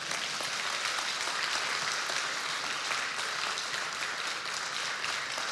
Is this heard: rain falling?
no